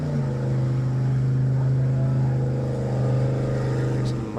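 A Formula Offroad car engine howls under throttle during an Icelandic hill-climb event, in a loud, sustained roar that holds steady and stays close.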